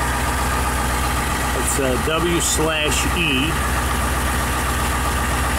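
A military Hummer H1 with a big diesel engine idles in a steady low rumble that holds throughout, while someone speaks briefly over it in the middle.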